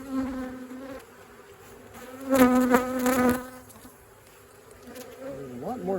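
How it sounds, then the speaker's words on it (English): Honey bees buzz around an open hive during a requeening, a steady droning hum that swells louder for about a second in the middle as bees pass close, then settles back to a softer background buzz. "There's a lot more bees in the top box."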